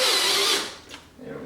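Power drill whirring briefly at high pitch as it drives a screw into the bumper of a C8 Corvette during a Z06 Z07 wing conversion, then spinning down.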